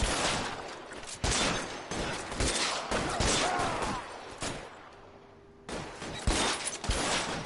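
Bursts of gunfire in a shootout with police in L.A. Noire, rapid repeated shots close and loud, pausing briefly near the end before resuming.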